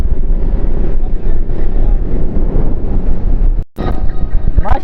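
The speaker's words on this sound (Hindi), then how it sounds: "ठंडी हवा चली खड़ी है" Strong sea wind buffets the microphone in a loud, continuous rumbling roar by the shore, cutting out briefly near the end before the gusting resumes.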